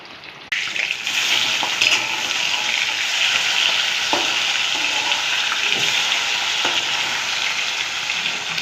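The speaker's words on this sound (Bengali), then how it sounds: "একসাথেই দিয়ে দিলাম, হয়ে যাবে। মাছটা ভাজা হোক।" Fish pieces fry in a pan, with a sudden burst of loud, steady sizzling that carries on evenly, broken by a few faint scrapes and knocks of handling and no talking.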